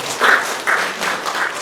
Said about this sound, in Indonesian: Mari kita tepuk tangan untuk mereka ya.